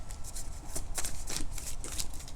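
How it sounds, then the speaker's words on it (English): Quick riffling bursts of cards being shuffled, several brisk flutters in a row, close and clear with no talking. "I'm also gonna shuffle on camera so y'all can see me pulling these cards out"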